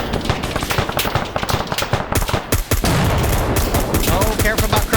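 Dense, loud automatic gunfire in a video game firefight, with rapid overlapping bursts and single shots hammering almost without pause, close and harsh, and a voice briefly audible underneath.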